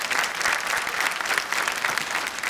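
Warm audience applause at a stage event, dense steady clapping from many hands filling the room at close range, with no voices over it.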